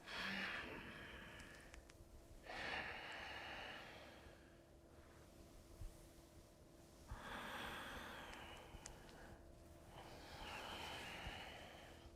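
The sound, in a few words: long yoga breaths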